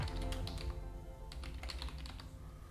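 Rapid typing on a computer keyboard while entering a marketplace search, a steady close patter of crisp key clicks with a brief lull partway through, with no voices.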